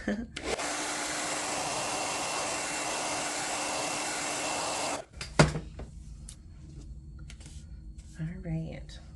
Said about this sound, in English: Now we need to let this layer dry. So I am going to hit it with a hairdryer.